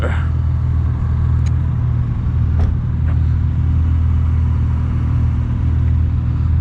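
A drift car's engine drones loud and steady at night at the Driftland track in Scotland, a continuous close rumble with no clear tyre screech standing out.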